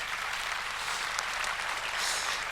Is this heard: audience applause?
yes